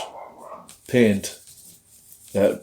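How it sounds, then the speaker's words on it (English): A dog next door barks in two loud, short bursts, with quieter background sound in between, heard indoors while someone works on an oil painting. "you're going to hear the dog next door barking away crazy"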